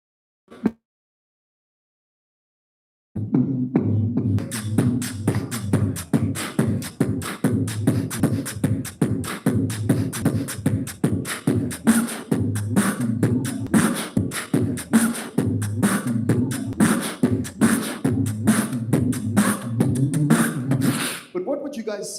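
A man on stage at the 2024 South African Startup Awards uses his voice to imitate a bass guitar with an effect switch flicked on, producing a steady, buzzing, rhythmic stream of low throaty pulses after a brief silence.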